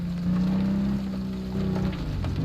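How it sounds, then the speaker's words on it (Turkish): Simulated rain falls in a car driving game, a steady close hiss of patter under a low humming engine drone that wavers in pitch. "aynen şöyle bir yağmur yağsın"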